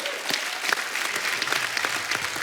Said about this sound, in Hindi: तालियां बहुत हैं।